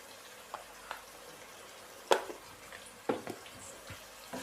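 Ground spice masala of coriander, turmeric and crushed red chilli frying in a pan for aloo methi, heard as a faint, steady sizzle broken by a few soft clinks and scrapes of stirring, close by with no talking.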